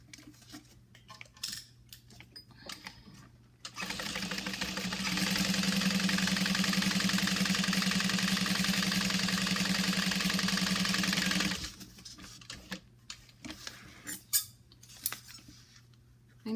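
A sewing machine stitches the bottom panel of a bag with a half-inch seam, a steady mechanical whir running for about eight seconds between quiet handling sounds.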